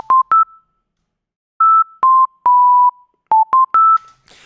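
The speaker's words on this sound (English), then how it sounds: "it kind of sounds like just a sine wave to me" A Citrus VST synth plays a MIDI melody in a pure, sine-like tone. Short clean notes hop between a few nearby pitches in a halting rhythm, with gaps of silence and one longer held note.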